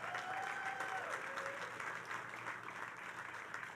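Outdoor crowd applause at a groundbreaking ceremony for the New York Islanders' arena at Belmont Park, a steady rush of clapping from a gathered audience, fairly faint and distant, with a brief tonal sweep near the start.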